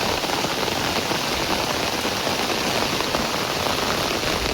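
Steady rain patters on a car bonnet outdoors in a village, a dense, even hiss of drops that stays loud and unbroken throughout, with no voices.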